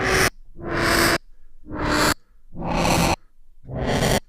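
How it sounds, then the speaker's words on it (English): A modular synthesizer setup sends out five loud bursts of harsh, breathy noise, each swelling in and cutting off abruptly, with a faint pitched tone buried inside and short silences between. "I can almost hear an oscillator in that noise."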